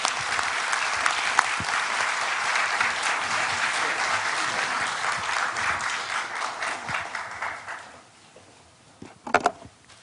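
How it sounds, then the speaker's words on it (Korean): Warm applause from a courthouse lecture audience at the Busan District Court greets a guest speaker, many hands clapping steadily for about eight seconds before fading out, followed by a couple of brief knocks. "뜨거운 박수로 여러분에게 소개합니다"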